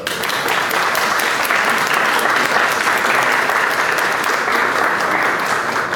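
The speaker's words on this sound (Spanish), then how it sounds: "Pedimos un aplauso para..." A seated audience at a literary book event in a university humanities faculty applauds steadily and loudly, dense clapping holding at an even level for about six seconds with no voices on top.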